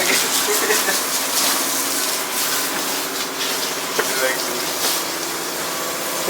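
A pressure washer sprays water on a dirty car, a loud, continuous hissing gush that stays steady throughout with small shifts as the jet moves.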